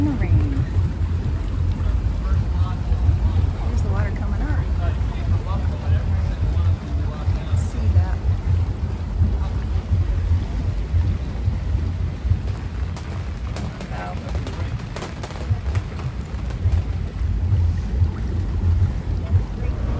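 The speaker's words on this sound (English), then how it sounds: "the water was low and it kind of churns and bubbles up underneath us and comes up" Water churns and bubbles up beneath a boat locking down in a canal lock in the rain, a dense, steady, loud rush that lasts the whole time, with rain pattering on top and a voice talking underneath.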